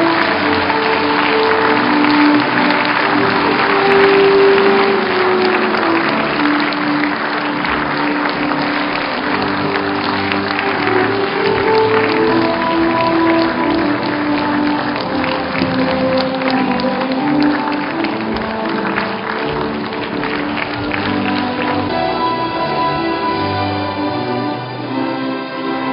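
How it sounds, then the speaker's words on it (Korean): A graduation ceremony audience claps steadily and loudly as officials enter, a dense sustained wash of applause that continues for the whole stretch without speech. "참석자 여러분께서는 큰 박수로 환영해 주시기 바랍니다"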